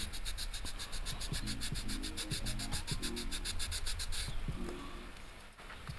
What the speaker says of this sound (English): I'm sanding this part right now because I oversprayed very unfortunately.